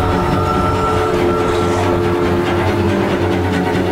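The monster train Charles from the horror game Choo-Choo Charles rumbles along in a loud, steady mechanical drone with rhythmic rail clatter, no voices over it.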